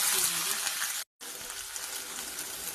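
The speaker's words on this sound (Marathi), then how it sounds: "आता मोहरी टाकायची आहे, टाकून घ्यायची आहे" Mustard seeds frying in hot oil for kanda poha give a loud, dense hiss and crackle that cuts out abruptly for a moment before resuming just as strongly.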